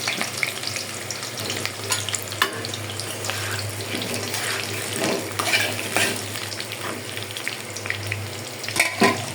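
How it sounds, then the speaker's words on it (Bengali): Potatoes sizzle steadily in a pan of hot oil while being fried for kacchi biryani, with occasional stirring scrapes and splashes rising over a constant crackling bed. "আমি এখন আলুটা বেজে নিচ্ছি"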